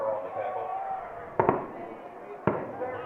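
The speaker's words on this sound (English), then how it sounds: "Those are giant mortars being blown up." Giant firework mortars go off at a high school football game, two sharp, loud booms about a second apart echoing across the stadium while a commentator talks over a low crowd murmur.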